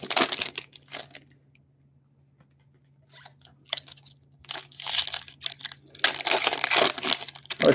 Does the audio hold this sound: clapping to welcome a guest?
no